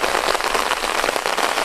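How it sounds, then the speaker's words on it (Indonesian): Steady rain falls on a small hut amid rice fields, a dense, even hiss of drops close by with no voices. "Enak ya apalagi pada nongkrong aja menikmatin suasana hujan ini"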